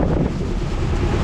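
Strong gusting wind roars steadily across a sailboat flying only its jib off the coast of Honduras, a loud, continuous broadband rush with no pause over the 30-knot gusts.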